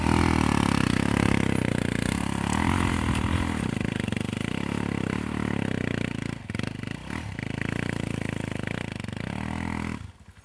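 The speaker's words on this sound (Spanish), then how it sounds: "La moto teledirigida." A remote-controlled toy motorcycle runs with a steady, buzzing motor whine and faint clatter for about ten seconds, close and fairly loud, then cuts off abruptly at the end.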